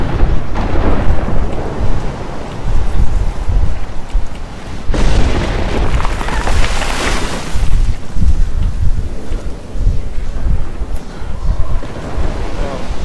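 A violent thunderstorm in the video game Overton, with continuous heavy rain and strong wind, deep rolling thunder rumbling throughout and a loud crash midway, loud and immersive with no talking.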